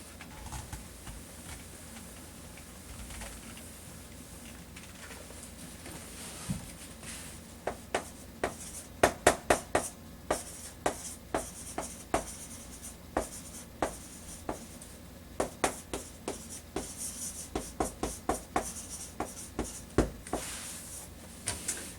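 Pen scratching out a sentence by hand on paper, a run of short sharp strokes and taps that quickens midway, close and fairly quiet, with no talking.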